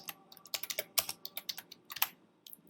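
Keys clatter on a computer keyboard in quick irregular bursts of close, crisp clicks, with a few heavier strikes like the Enter key standing out, and no voices.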